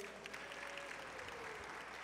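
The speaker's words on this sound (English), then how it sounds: "I want a big round of applause for Maddie Overby right over here," At a basketball clubhouse event, an audience claps in a dense, steady wash of applause that holds evenly throughout, at a moderate distance and fairly quiet.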